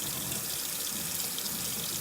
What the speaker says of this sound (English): Then I run it a little bit under the water.